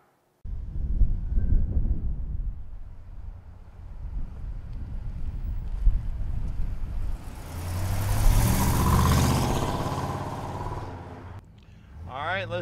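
A 1967 Pontiac GTO engine runs steadily as the car drives, a loud low rumble with wind buffeting that swells midway, then briefly drops before picking up again.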